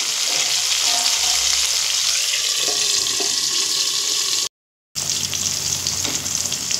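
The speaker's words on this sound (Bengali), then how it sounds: "আর পটলগুলো এমনভাবে ভাজবো পুরো যেন সিদ্ধ হয়ে যায়। চাপা দিয়ে দিয়েই কিন্তু ভাজতে হবে।" Pieces of pointed gourd (potol) sizzle steadily in hot oil in a pan, a bright continuous crackling frying hiss with faint clinks of stirring and pressing, briefly cut by a moment of silence.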